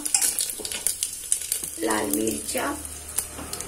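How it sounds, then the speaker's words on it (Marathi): Mustard seeds, a bay leaf and dried red chillies crackle and sizzle in a little hot oil for a sambar wada tempering, with a soft clink of a spoon against the pan and a voice talking briefly over it. "थोडं तेल घालूया, अर्धा चमचा जास्तीचं याच्यात. मोहरी, मग तेजपत्ता, मग लाल मिरच्या."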